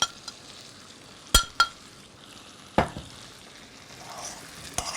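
Potatoes are stirred into spices in a hot pan, with a faint sizzle under a few sharp clinks and scrapes of a spoon against the pan.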